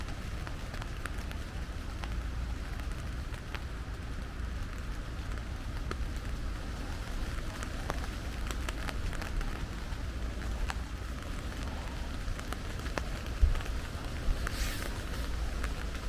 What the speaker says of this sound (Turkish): Rüzgar var. Hafif bir yağmur yağıyor bakın.